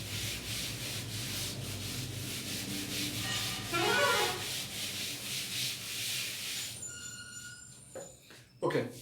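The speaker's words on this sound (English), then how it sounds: "just I'll rub the board" A board is rubbed clean during a chemistry lecture: a long run of rapid, rhythmic scrubbing strokes, close and fairly loud, ending in a few quieter knocks and scrapes.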